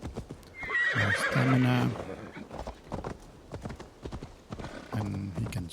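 A horse in Assassin's Creed Valhalla neighs loudly, followed by rhythmic hoofbeats in a quick gallop, with a person talking over the sounds.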